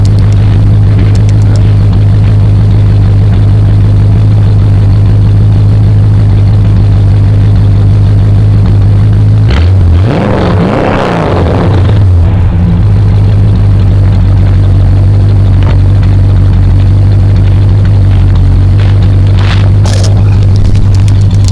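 A 1970 Chrysler New Yorker big block V8 idles with a loud, deep, steady rumble in a church parking lot, rising into one brief rev near the middle before settling back to idle.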